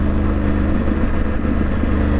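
A KTM 790 Adventure motorcycle engine runs loud and close for a couple of seconds, a steady throbbing drone with slight rises in revs as it pulls away, with no talking.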